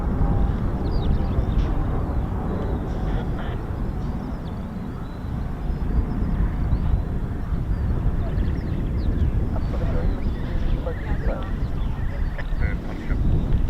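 Two Eurofighter Typhoon jets of 41 Squadron fly past low under heavy cloud, a loud continuous roar of jet engines rising and falling, with faint honking birds nearby.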